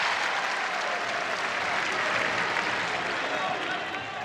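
Steady applause from a crowd at a men's college wrestling match between Nebraska Kearney and Iowa State, loud and sustained throughout with a dense clapping wash and no break.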